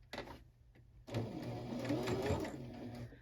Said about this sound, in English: You can just do a basting stitch